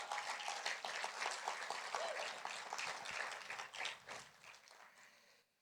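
A church congregation bursts into dense, sustained applause during a service. The clapping is loud and continuous, then tapers off and fades out near the end.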